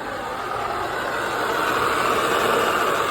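A Subaru Outback transmission with bad bearings gives a steady droning whine and grinding hum, loud and close, constant over the few seconds with no talking.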